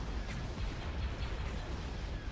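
A hypervelocity cannon fires in a space battle within the Star Wars Thrawn's Revenge mod, a steady dense booming roar with repeated heavy bursts layered over continuous battle noise, loud and close.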